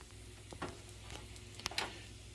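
Hash browns frying in a pan give off a faint, steady sizzle, a soft continuous hiss with a few light ticks and pops scattered through it.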